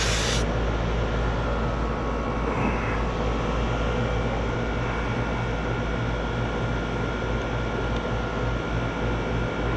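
An old Trane air conditioning compressor that was tampered with runs with a steady, loud mechanical drone and broadband airy roar, holding at a constant level after a short burst at the start.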